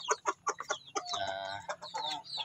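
Crossbred Basilan and native chickens cluck in a backyard, giving a few quick close clucks and then a longer drawn-out call, clear and fairly loud, with no talking.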